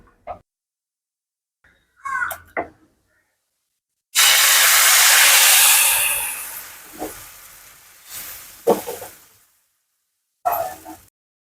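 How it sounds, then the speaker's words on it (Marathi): Rice batter for ghavane is poured onto a hot iron griddle (tava) and gives off a sudden loud hissing sizzle that slowly fades, with brief clatters of utensils before and after. "चला तर आता आपण घावणं तव्यामध्ये घालून घेऊया"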